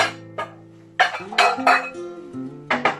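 A ceramic bowl is lifted out and set down on a counter for papaya, giving several distinct clinks and knocks with ringing tones that linger between them, close and clear, with no talk.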